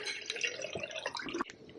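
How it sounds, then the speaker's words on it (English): An ice cube drops into a glass of water, giving a faint clink and a brief splash with small trickling sounds, quiet and close with no talking. "I'm gonna put a little ice cube in there."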